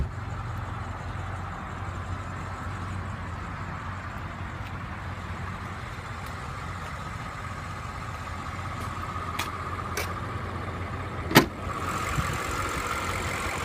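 A 2016 BMW 750i xDrive's 4.4-liter twin-turbo V8 idles with the hood open, a steady low hum with a brief sharp click near the end.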